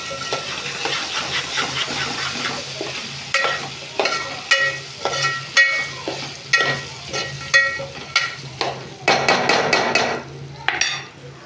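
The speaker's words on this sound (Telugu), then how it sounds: "పెసరపప్పు వేసుకొని కొంచెం ఏముకోవాలి దీన్ని కొంచెం పచ్చి వాసన పోయేంత వరకు ఏముకున్నాము" Moong dal is fried and stirred in a hot pan, with a steady sizzle broken by repeated scraping strokes of a spatula, close and fairly loud.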